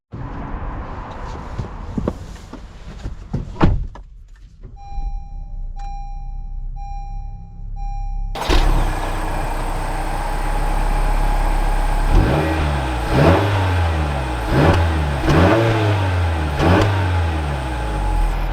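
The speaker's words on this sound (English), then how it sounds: "let's take the CR-V out and see how it drives" A 2021 Honda CR-V EX-L: door thuds and a steady chime, then the engine starts and settles into a close, loud idle with several rising revs as the car sets off.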